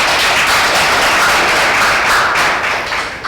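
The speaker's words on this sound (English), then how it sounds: "A big round of applause" A school quiz audience applauding a correct answer, heard as dense, continuous clapping that stays loud and even for about three seconds before tapering slightly at the end.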